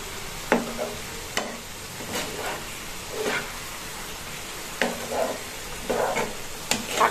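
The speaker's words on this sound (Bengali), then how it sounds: "ভালো মতন এটা নাড়িয়ে দিচ্ছি যাতে সমানভাবে সব জায়গায় মিশে যায়" Mustard greens are stirred in a hot pan, with a soft steady sizzle broken by repeated scraping strokes of a spoon against the pan, heard close with no voices.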